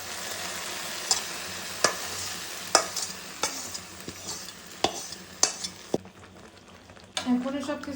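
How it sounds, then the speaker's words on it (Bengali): Fried chopped onion, garlic and ginger are stirred into a cow or goat trotter (paya) curry with repeated sharp spoon clacks against the pot over a soft sizzle, ending in a brief splashy stir. "এখন সব কিছু ভালো করে মিশিয়ে নিব।"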